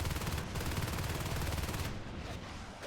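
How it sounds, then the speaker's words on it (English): Rapid, dense gunfire from shotguns and other weapons in a competitive video game match, continuous and loud for the whole stretch with no talking. "just the power of shotguns, guys, is absolutely insane"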